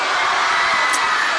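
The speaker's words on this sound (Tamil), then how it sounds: "ஒரு ஓ போடுங்க பார்க்கலாம்" A large audience at a Tamil comedy debate show in Dharmapuri shouts a long "O" together, a loud, steady, sustained roar that fills the whole stretch without break.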